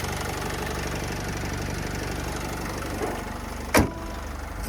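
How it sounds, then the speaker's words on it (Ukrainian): A 2013 Opel Vivaro 2.0 (115 hp) passenger van idling, a steady low engine hum held close and even throughout, with one short sharp click near the end. "Це Моторчик працює відмінно"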